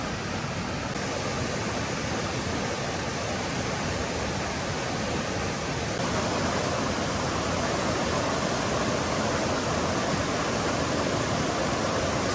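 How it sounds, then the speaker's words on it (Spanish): A river or stream on the Elfin Forest Trail running full with plenty of water, a loud, continuous rushing roar of flowing water close by, unbroken throughout with no voices. "Vamos a bajar a explorar a la parte del río o el arroyo. En esta época del año lleva bastante agua."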